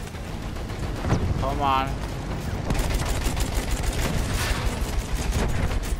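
Rapid machine gun fire rattles in sustained bursts during a Battlefield match, with explosions and battle noise underneath and people talking over it.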